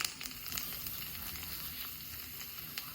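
Garlic cloves split lengthwise frying in hot oil, a soft continuous sizzle with faint crackles and small pops, close but quiet, with no one talking.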